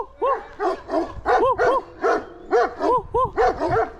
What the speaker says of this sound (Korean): 개들이 엄청 짖습니다.